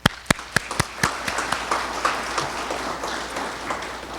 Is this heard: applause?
yes